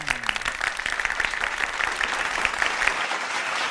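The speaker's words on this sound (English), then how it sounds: "a big round of applause for the representatives of Thailand to the 7th ASEAN Quiz in Lao PDR, the Central Region." A large audience applauds representatives of Thailand at the 7th ASEAN Quiz national round, dense sustained clapping filling the hall at steady loudness from start to finish.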